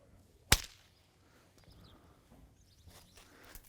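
A single sharp whip crack snaps close by near a mustang during desensitizing work, followed by quiet outdoor ambience with faint rustles and movement.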